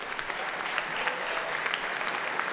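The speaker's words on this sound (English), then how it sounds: "another round of applause for Kellam" Brief, steady applause from an audience at an awards event, dense clapping heard from a distance that continues evenly without voices.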